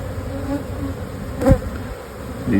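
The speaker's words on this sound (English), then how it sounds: "These nucs are so full of bees." Honey bees hum densely inside a packed nuc hive. The close, continuous buzzing swells into a brief louder burst midway through.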